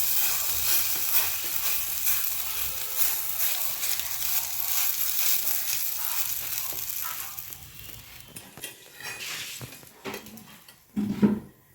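Cabbage pitha batter fries on a hot griddle with a steady, close hiss and sizzle that thins out toward the end, broken by a few soft clicks and scrapes.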